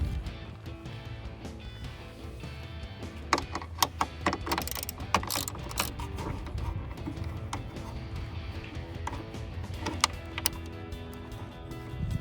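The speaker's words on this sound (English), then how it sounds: "we're going to remove 1 13mm nut from the lower hood catch inside the" Ratchet wrench loosening a 13mm nut on the lower hood catch inside the fender of a Jeep Wrangler JL, with quick clicking bursts and sharp metallic ticks over a steady low mechanical background, close and fairly quiet.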